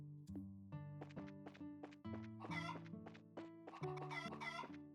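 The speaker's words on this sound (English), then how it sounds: "I want to talk to fucking chickens." Chickens in Trails in the Sky cluck in short, close, repeated bursts over a layered game music bed that moves in steady steps, with no talk.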